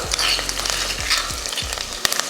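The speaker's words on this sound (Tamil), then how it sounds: "எண்ணெய் நல்லா காஞ்சதுமே வெங்காயத்தை தட்டின பார்த்தீங்களா, அதை சேர்த்துடலாம்." Crushed onion, curry leaves and ginger garlic frying in hot oil for a country chicken soup, a close steady sizzle with a few stirring scrapes, no speech.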